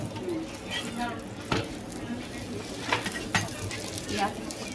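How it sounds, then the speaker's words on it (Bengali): An aloo paratha fries in oil on a tawa, giving a steady close sizzle with occasional clinks and scrapes, while a voice talks faintly in the background. "একটু সুন্দর করে ভাজাভাজি করলে পরেই আমাদের রেডি আলু পরোটা"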